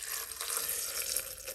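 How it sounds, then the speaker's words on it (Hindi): Water is poured into a ground spice paste of turmeric, cumin, ginger, coriander stems and green chillies for grinding, a short splashing trickle heard close with no voices. "थोड़ा पानी डालता हूँ"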